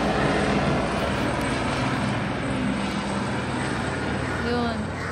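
Steady engine drone of a yellow helicopter circling overhead fills the whole clip at a constant level, with faint voices or bird chirps near the end.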